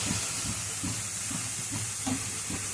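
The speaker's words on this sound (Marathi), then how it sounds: "आता 5 मिनिटं असे आपण परतून घेऊया।" Grated carrots for gajar ka halwa sauté in a pan, a steady loud hiss and sizzle with rhythmic soft scraping pulses from stirring, close up.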